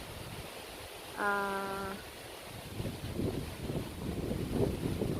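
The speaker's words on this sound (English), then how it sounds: "this is how strong our wind today." Strong wind in the Philippines buffeting the microphone, a steady low rumble that swells into gusts, with a brief tonal horn-like note in between; a voice makes a short utterance.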